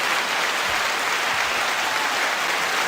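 Steady, even applause from an audience, a dense wash of clapping that holds at the same loud level throughout with no voices over it.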